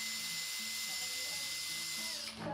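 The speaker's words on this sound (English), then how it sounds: "I charged up a buffing pad with some green polishing compound, and I can use that in my drill" A high-pitched electric drill whines steadily at close range, spinning a buffing pad charged with green polishing compound against an old axe head, then winds down near the end.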